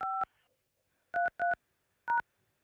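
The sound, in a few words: telephone keypad tones entering a meeting number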